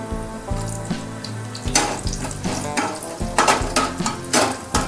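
Dried red chillies and garlic frying in a pan, a soft continuous sizzle broken by scraping stirs and a few sharper clatters, close up with no voices.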